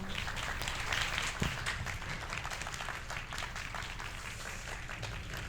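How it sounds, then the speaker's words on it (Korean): An audience at an AI product launch event applauds as a presenter is welcomed to the stage, a fairly faint, sustained patter of many hands clapping in a large room, with a brief thump near the start. "네, 박수로 맞이해 주시기 바랍니다."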